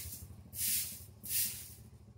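Two short bursts of insecticide spray aimed at ants on a farm, each a loud hiss lasting about half a second, separated by a brief pause over a low steady background hum.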